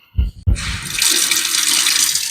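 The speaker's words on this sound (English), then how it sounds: "So I just regularly wash them in dishwash, but you have to let the soap dry on them." Water gushes steadily from a tap or hose onto a pumpkin being washed with dish soap, a loud, close splashing rush that starts after a couple of short bumps and runs continuously.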